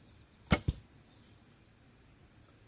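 A 600 grain arrow is loosed from a traditional bow, giving one sharp thwack and a quick second impact, brief and close in an otherwise quiet setting.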